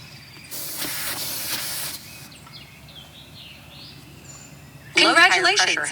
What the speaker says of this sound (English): Just got to screw it on real fast so we don't lose much air, but not much come out.